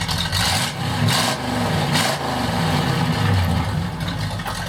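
A 1951 Chevrolet 3100 pickup with a straight-piped V8 and automatic gearbox runs at idle, a loud, close, steady rumbling drone with slight surges in engine speed.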